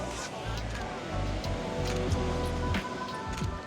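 Ocean waves wash steadily onto the shore in a continuous rushing surf, moderately loud, with indistinct voices faintly mixed in.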